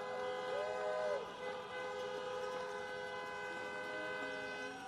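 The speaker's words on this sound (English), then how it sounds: "honk for your next United States Senators, John Ossoff and Reverend Raphael Warnock." Car horns blare at a Georgia political rally, several sustained overlapping honks sounding together at a distance in a continuous chorus, with a voice faintly underneath.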